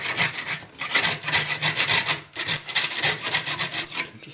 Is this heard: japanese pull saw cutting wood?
yes